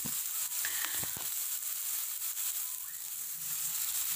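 Pumpkin shoots stir-fry in a hot pan with a steady close sizzle and hiss, broken by a few clinks and scrapes of the utensil stirring them, with no talking.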